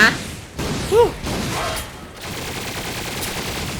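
Rapid gunfire from the Ratchet & Clank video game, fired at a dog, bursts loudly through most of the clip alongside game effects and a brief rising whistle, with a voice talking over part of it.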